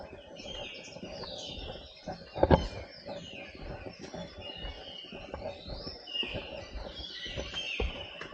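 Birds chirp and sing at Abbey Falls in Coorg, a quiet mix of scattered tweets and short calls, with one louder burst near the middle over soft background ambience.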